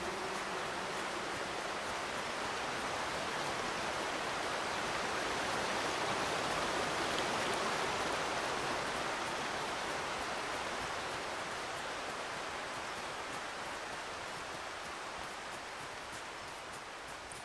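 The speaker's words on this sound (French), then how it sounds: "Ah oui, là, c'est la cascade." Steady rushing water of a river waterfall in the video game Among Trees, a continuous broadband roar holding even throughout, moderately loud with no voices.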